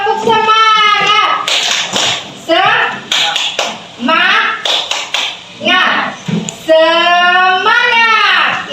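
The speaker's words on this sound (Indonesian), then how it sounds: "Kalau kita tepuk semangat seperti ini" Children perform the 'tepuk semangat' rhythmic clapping routine, with sharp claps scattered among loud, near voices that chant and talk throughout.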